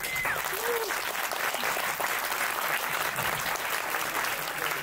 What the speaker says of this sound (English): How about that film? Round of applause